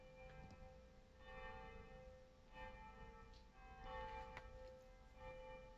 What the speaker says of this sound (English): I haven't heard the church bells toll for a long time.